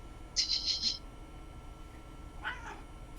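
A cat wanting to come indoors gives two short meows, a bright, clear one early and a lower, softer one a moment later, with quiet background noise between.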